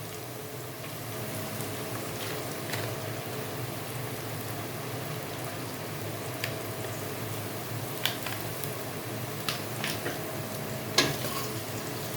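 Rice with shrimp, chicken, vegetables and Szechuan powder sizzles steadily in a hot wok for about twelve seconds, with occasional scraping and clinking of a spatula as it is tossed and mixed; no voices.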